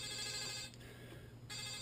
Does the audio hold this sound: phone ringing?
yes